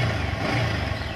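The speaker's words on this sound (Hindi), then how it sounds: "दोनों अभी थोड़ा सा इसको रेव करते हैं" A Yamaha R15 V3 motorcycle engine revving after its second service, a short burst of mid-pitched engine roar heard close up and moderately loud.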